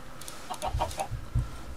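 Chickens in the Minecraft video game give a short run of quick clucks, several soft bursts close together, with no voices over them.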